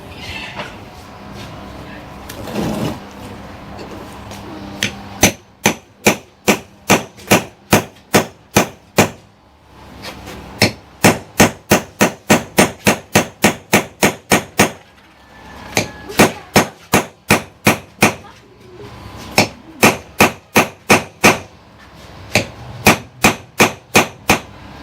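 Hammer blows drive a fitted part onto a 12V solar DC water pump, sounding as sharp, loud metallic strikes in rapid bursts with short pauses between groups and faint talk in the background.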